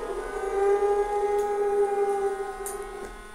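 Haunting Ghost Bride Halloween animatronic from Home Depot emitting a steady, eerie wailing tone that holds a sustained pitch with a faint droning background.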